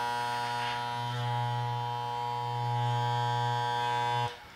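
Andis Masters electric hair clippers running after service, a steady close mains-like buzz with a faint rattle that cuts off at the end.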